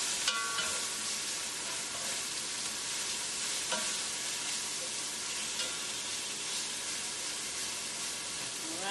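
Egg roll filling fries in a pan while being stirred, a steady close sizzle with scraping stir sounds and a few soft clicks, continuous and moderately quiet.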